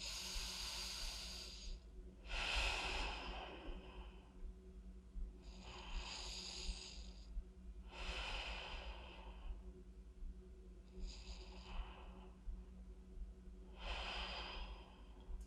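Deep, expansive breaths taken during a side-bending stretch in a core strength workout: about five long, airy inhales and exhales, close and steady, with quiet pauses between them.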